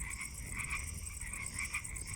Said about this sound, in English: The green frogs add a different register to the chorus, a lower, more percussive sound, like the plucking of a single loose banjo string.